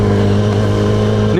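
A Yamaha R1 sport motorcycle fitted with a Kaufman exhaust idles close by, a loud, steady burbling hum from the exhaust that rises sharply into a quick rev at the very end.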